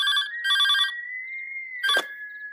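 A telephone bell rings late at night in a house, in loud electronic bursts separated by a sustained tone, close and clear with no talking.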